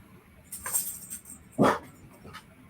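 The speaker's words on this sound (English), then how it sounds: "My dog is barking." A dog indoors gives a couple of short barks, one louder and nearer than the other, with quieter yips around them.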